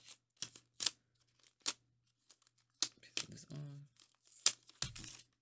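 Protective film being peeled off a phone's instruction sheet, several sharp crackly tearing and crinkling bursts close by with gaps of near silence, plus a brief murmur of voice.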